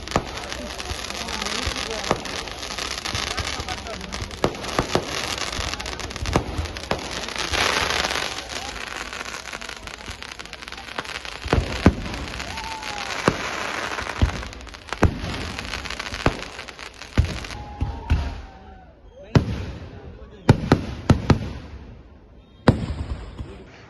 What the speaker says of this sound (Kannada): ಬೇಡಿಕಟ್ಟೆಯಲ್ಲಿ ನಡೆದ ಸಿಡಿಮದ್ದು ಪ್ರದರ್ಶನ ವೀಕ್ಷಿಸಲು ಸಹಸ್ರಾರು ಮಂದಿ ಭಕ್ತರು ಆಗಮಿಸಿದ್ದರು.